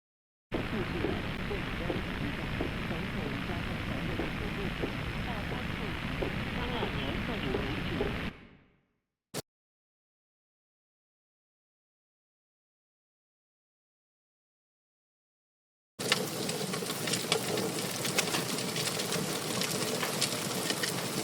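Firestorm and warfare bombardment sound effect: a loud, dense roaring rumble with crackling texture runs steadily for about eight seconds, cuts off, a lone click follows, then after several seconds of silence the roar returns at full strength.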